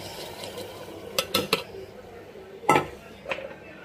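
Sautéed vegetables and soaked dal being mixed in a pot for sambar, giving a few sharp clinks and scrapes of a utensil against the pot in short bursts over a soft background.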